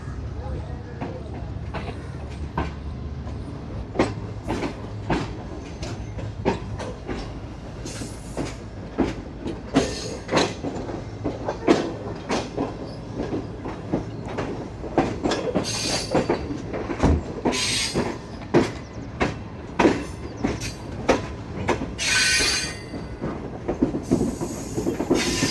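The Shalimar Express passenger train rolls along the rails from Lahore toward Multan, with steady rumble and a long run of rhythmic clickety-clack wheel beats heard from inside the carriage, mid-level and continuous.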